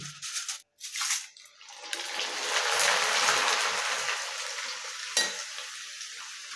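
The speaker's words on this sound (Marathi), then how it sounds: "तेल अगदी कडकडीत लागतं पोहे तळण्यासाठी" A sudden burst of loud crackling sizzle as poha for chivda drops into very hot oil on high flame, rising and holding steady, with brief knocks before and a clink near the end.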